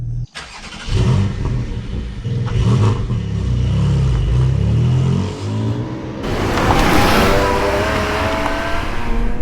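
A Porsche 718 Cayman GTS 4.0 with its four-liter flat-six drives off, the engine revving and accelerating loudly and close by, with a rising, strained tone in the final seconds.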